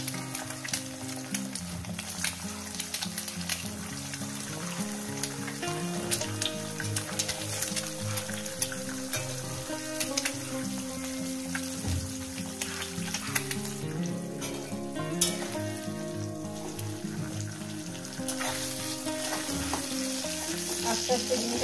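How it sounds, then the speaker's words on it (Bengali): Eggs frying in a pan with green tomato, a continuous close sizzle and crackle of hot oil with frequent scraping and stirring from a spatula throughout. "আস্তে আস্তে ডিমটাকে আমি এভাবে ছোট ছোট পিস করে ভেজে নেব।"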